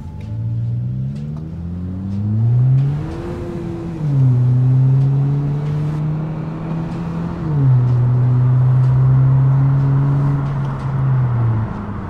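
Kia Cerato 2.0 fitted with a universal aftermarket exhaust, its engine note rising and falling through several gear-like rev changes as it drives, a loud steady rumble with no talk over it.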